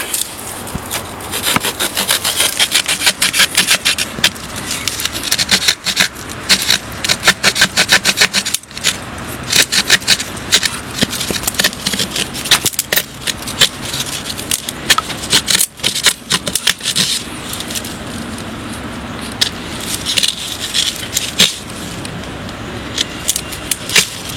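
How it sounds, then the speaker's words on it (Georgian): A Gerber survival knife's saw-toothed half-blade cutting through a dry branch, with steady, close rasping strokes repeating fast and evenly for the whole stretch. "ამჯერად ხმელი ტოტი გავხერხეთ, იმიტომ რომ ნედლი ცოტა გვიჭირს."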